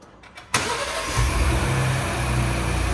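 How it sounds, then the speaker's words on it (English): 2026 Ford Bronco Outer Banks starting by remote start: a click, then the engine cranks and catches, settling into a steady, loud, close idle rumble. "if I remote start the vehicle"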